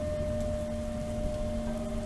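Steady rain falls on a stormy night near an old, abandoned-looking house, a constant dense hiss with a low rumbling bed and faint tonal hum beneath, unbroken and fairly loud throughout with no voices.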